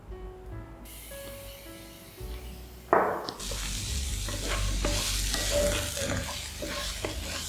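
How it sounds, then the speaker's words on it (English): Peppercorns drop into hot oil and burst into a loud, steady sizzle that carries on for several seconds, after a quieter stretch of pan noise. "First step, we're gonna tamper the oil with our peppercorns"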